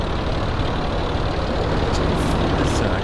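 A tractor engine runs steadily in Farming Simulator 22, a loud, continuous low diesel drone with no talk over it.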